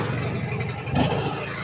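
A snowblower engine runs continuously at close range, a steady mechanical drone with a slight swell near the middle, after being started with a turn of the key.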